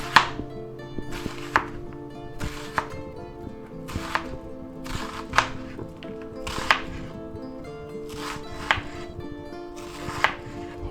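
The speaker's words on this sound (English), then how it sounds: "let's go ahead and chop up our onion" A knife chopping a large onion on a board, with about a dozen crisp, evenly spaced thunks roughly once per second, close and clear over a faint background hum, with no voices.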